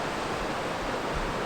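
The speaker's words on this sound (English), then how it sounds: "Look at that beautiful waterfall" Waterfall on the Smith River in a forest, a steady, faint broadband roar of falling water heard from a distance, unbroken and alone.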